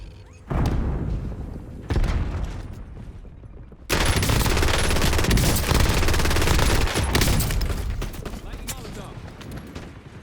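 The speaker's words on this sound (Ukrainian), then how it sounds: "Я не поняла взагалі хтось сюди стріляє." Gunfire in Call of Duty: Warzone, bursts of shots breaking out after a quiet start, then a sustained loud stretch of rapid fire and booms, with a voice talking over it.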